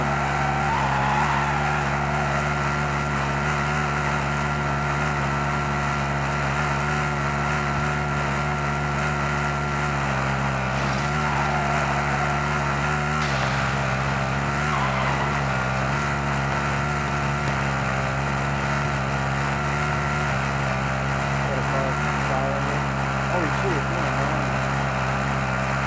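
A steady, loud engine roar from a racing car in a video game runs throughout, with occasional tire squeals and skids layered over the drone.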